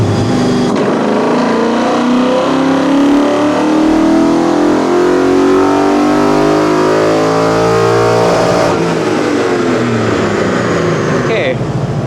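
A Ford Mustang Mach 1 on a chassis dyno revs hard in one long pull, engine pitch climbing steadily for several seconds, loud and close, before dropping off sharply near the end.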